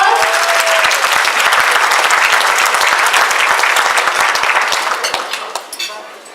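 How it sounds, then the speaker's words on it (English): Loud, dense applause fills the room at the 62nd NAACP Freedom Fund Gala as nominees are honored, a large crowd clapping steadily before the sound tapers off into a few scattered claps. "give everyone, all of our nominees, a round of applause"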